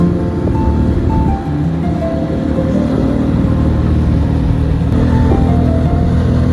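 A motorcycle engine rumbles loud and close throughout the ride, a steady low drone with small shifts in pitch as the throttle varies and no speech.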